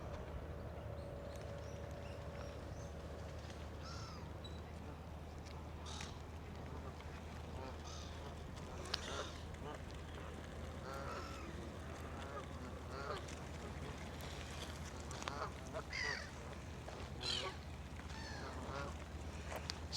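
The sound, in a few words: geese honking while being fed in a country park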